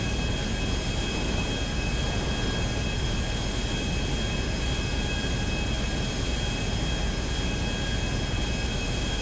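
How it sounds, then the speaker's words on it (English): Aircraft engine drone inside an airliner approaching Los Santos in GTA roleplay: a loud, constant roar with a steady whine, unbroken throughout and with no voices audible over it. "I can't even hear what he's saying. I need a smaller aircraft so I can actually hear people."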